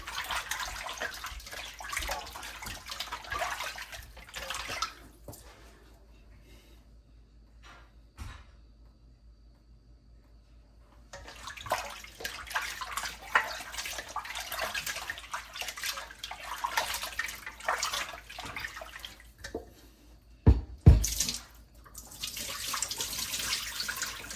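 Tap water runs steadily while raw oxtail is rinsed clean in a sink, a broad splashing wash that stops for a few seconds in the middle, then resumes with occasional clunks and clatters.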